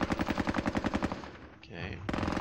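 A machine gun team fires in a war video game, rapid regular bursts of loud automatic gunfire with a brief lull near the end before the firing resumes.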